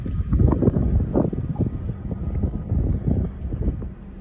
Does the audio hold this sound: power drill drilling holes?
no